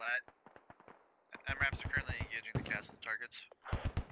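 Rockets and gunfire crack across the battlefield in the video game Squad, with sharp repeated shots and bursts mixed under a man's radio-style commands. The detonations come in irregular clusters, some near and loud, others farther off.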